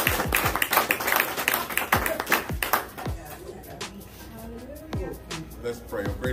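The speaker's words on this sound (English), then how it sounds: "One more hand clap of praise for that word." A church congregation giving a round of clapping in praise at a Sunday service, loud applause that thins out midway, leaving scattered claps and voices, with a final burst of clapping near the end.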